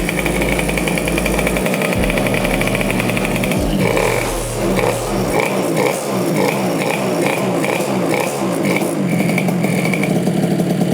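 A Mobylette moped engine runs loud and close, chugging at idle before the clutch engages and the motor picks up into a busier, rattling run, with no talking.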